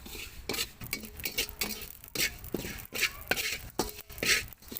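Shahjira spices are stirred and roasted in a little oil in a pan over a low flame for Maharashtrian kala masala, with a busy, close run of metal spoon scrapes and clinks against the pan and no talking.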